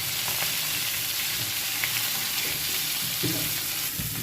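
Fish pieces fry in oil in a kadai, a loud, continuous close-up sizzle with a few faint scrapes of a utensil near the end.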